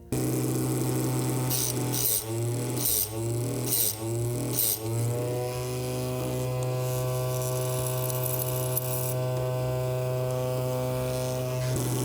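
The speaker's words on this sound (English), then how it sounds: "match the tooth here to the shape of the disc on my machine here" Electric chainsaw chain sharpener grinding the teeth with a disc, a loud steady motorized hum and whine, interrupted by several short rhythmic grinding bursts early on, then a continuous drone.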